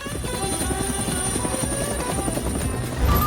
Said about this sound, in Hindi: वाह, उस हेलीकॉप्टर को देखो।